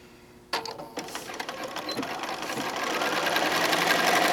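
A sewing machine stitches placemat fabric, starting abruptly after a short quiet moment and then running steadily, its rapid mechanical whirring and clatter growing slightly louder toward the end.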